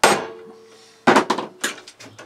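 A metal rod clamped in place is struck with a single ringing knock, followed by a quick cluster of sharper metallic taps that ring briefly, loud and close with no voices.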